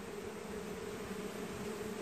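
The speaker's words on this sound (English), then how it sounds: "These are good looking bees." Honeybees buzz steadily in a hive inside a camper, a continuous faint drone with no pauses.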